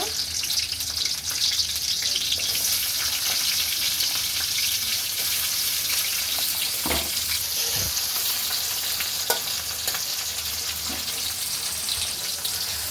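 Chopped onions fry in hot oil in a pan while cooking vegetable pasta, giving a steady, dense sizzle that runs without a break, with a few faint clinks and stirring scrapes near the middle.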